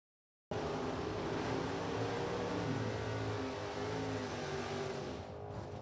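A hot rod drag racing car engine roars steadily and loudly at an outdoor drag strip, a continuous dense rumble that starts abruptly and eases off slightly near the end.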